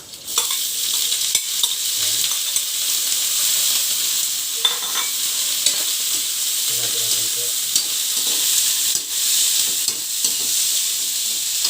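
Vegetables being sautéed in a pan sizzle and hiss steadily throughout, with occasional scrapes and clacks of a stirring utensil up close.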